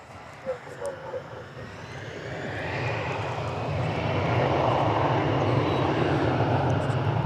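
A Spirit Airlines Airbus A320 arriving at DFW Airport from Las Vegas, its engine roar swelling from quieter beginnings into a loud, steady broadband rush that holds to the end, with brief voice-like bursts early on.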